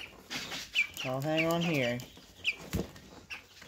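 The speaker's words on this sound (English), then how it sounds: "lift a giant chicken." A large chicken gives a drawn-out squawking cluck as it is lifted, then a few shorter clucks follow, close by, with a person speaking briefly over it.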